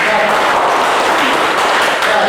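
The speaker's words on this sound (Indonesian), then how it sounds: "Kita kasih tepuk tangan untuk kalian semua ya." Applause from a class audience for student presentation groups, a dense steady patter of clapping filling the room, loud and continuous with no clear pauses.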